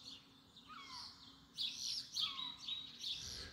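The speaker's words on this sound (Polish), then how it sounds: "O, jakaś mewa leci." Birds calling outdoors around six in the early morning, with a seagull flying past; a few separate chirping, squealing calls, moderately near, rising louder midway, with no talking.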